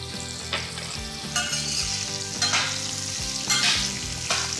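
A tempering of raw mango fries in oil, a continuous close sizzle marked by repeated scraping stirs of a spoon against the pan, with music playing underneath.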